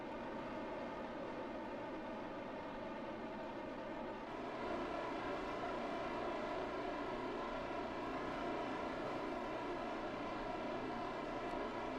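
Spacecraft engines firing during a landing approach in Kerbal Space Program, a steady droning roar that grows slightly louder partway through, continuous and without talk.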